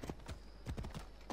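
Horse hooves clip-clop in the game Assassin's Creed Odyssey, a quick run of close, sharp hoofbeats in an uneven gallop rhythm over a low background rumble.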